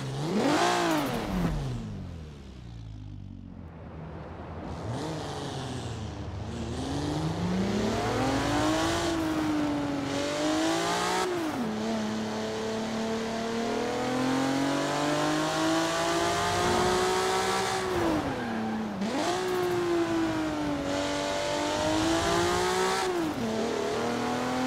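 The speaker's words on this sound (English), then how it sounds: "Let's take it out in its stock form for a test drive, and first, take a minute to listen to the engine." Stock 1997 Mitsubishi GTO engine in the Forza racing game, revving and accelerating through several gear changes, a loud continuous rising and falling engine note heard alone.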